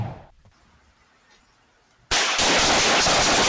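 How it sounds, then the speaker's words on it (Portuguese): Gunfire from a shooting in a city park, heard as a sudden loud, sustained burst that breaks a quiet background and keeps going to the end. "a polícia liberou imagens de um tiroteio que deixou 3 crianças feridas"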